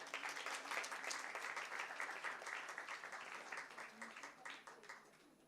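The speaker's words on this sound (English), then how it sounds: "Can we have a round of applause?" Audience applause for an award recipient at a women's empowerment event in India, steady clapping from a crowd in a hall that sustains throughout and gently tapers toward the end.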